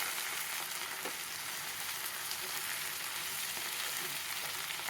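Fish frying in coconut oil for a masala fish fry, a steady, fairly faint crackling sizzle that runs evenly throughout with no talk.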